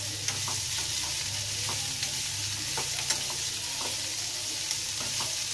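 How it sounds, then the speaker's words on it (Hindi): Okra sizzles steadily as it fries in a pan for dhaba-style bhindi masala, with occasional stirring scrapes and small crackles over a continuous frying hiss and no talk. "थोड़ी भिंडी दो मिनट भूनते हैं"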